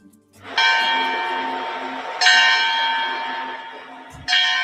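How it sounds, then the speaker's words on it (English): Church bells ring at the Vatican, three loud, bright strikes spaced about two seconds apart, each ringing on with a long, slowly fading hum. "Bells at the Vatican"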